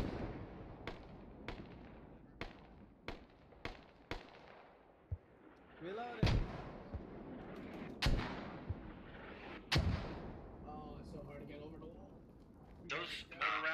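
Mortar rounds land in a field during a Squad multiplayer battle, a run of sharp distant thuds early on and then several heavier booms, with voices talking over the sound throughout.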